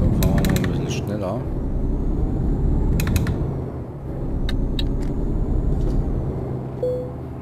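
A truck engine in Euro Truck Simulator 2 holds a steady, continuous rumble as it picks up speed, with faint mechanical creaks and clicks over it and someone talking intermittently throughout.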